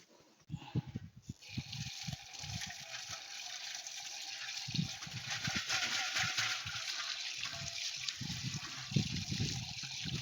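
A clay pot is washed out with running water outdoors, a steady trickle and splash lasting throughout, with intermittent handling knocks and rubbing sounds in the foreground.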